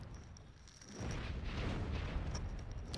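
Cannon shots from a war video game, a broad low rumbling barrage of explosions that swells after the first second and keeps booming steadily, with no one speaking.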